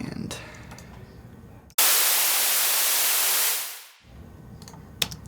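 White noise from a noise oscillator in Ableton Live, a loud, flat broadband hiss that runs steady for about two seconds and then fades away, with quieter clicking and faint sounds around it.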